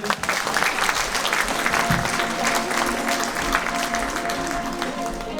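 Theatre audience applauding steadily at a gala closing the Year of Theatre in Elista, Kalmykia, a dense, loud wash of clapping hands sustained throughout with no voices over it.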